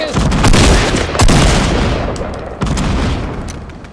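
Gunfire in the battle royale game Fortnite: loud, close shots booming in a few heavy bursts, each trailing off into a rumbling decay.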